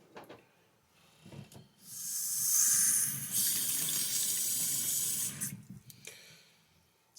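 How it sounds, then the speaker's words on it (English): Water pours steadily from a tap into a container for a few seconds, a loud rushing hiss between quieter clinks and handling sounds. "I'm gonna put another cup of water in there"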